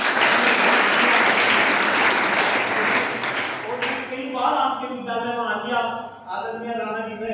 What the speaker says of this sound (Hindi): मैं जोरदार तालियां देता हूं